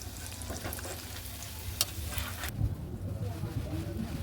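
Onion lentil fritters (dal pakoras) fry in hot oil, giving a soft, continuous sizzle and bubbling with a few clatters of handling. The sizzle runs faintly throughout and quiets slightly partway through.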